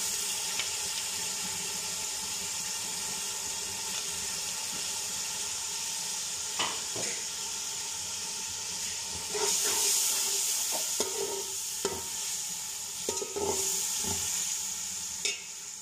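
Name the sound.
ginger, green chili and tomato frying in a pan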